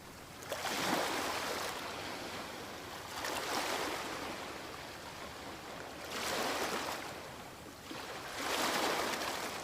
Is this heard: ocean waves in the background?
yes